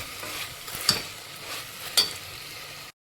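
Masala with salt and jaggery is stirred and sautéed in a pan for a Maharashtrian masala bath, a soft low sizzle under two distinct spatula knocks against the pan, fairly quiet and ending abruptly.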